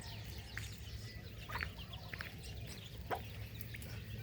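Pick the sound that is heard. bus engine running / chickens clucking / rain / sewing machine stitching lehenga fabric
chickens clucking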